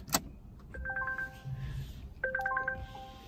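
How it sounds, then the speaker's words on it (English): Inside a 2021 Volvo XC60 T8 Polestar Engineered, a warning chime sounds for open doors and an unbuckled seatbelt: a short run of bright electronic tones plays twice, after a sharp click at the start, over a faint cabin hum. "Car's upset that the doors are open and that I don't have my seatbelt buckled."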